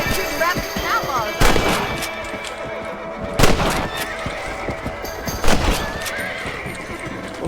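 A horse whinnies in Red Dead Redemption, with rising calls repeating over ongoing gameplay noise. Loud bursts that sound like gunfire punctuate it.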